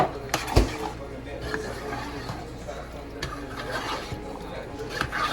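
Tomato paste and garlic roasted ragu sauce are stirred together in a pot, giving soft scraping and clinking of a spoon at close range, with someone talking over it.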